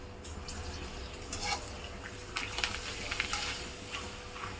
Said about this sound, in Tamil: அதுலேயே ஒரு 4 அப்பளத்தை பொரிச்சு எடுத்துப்போம்.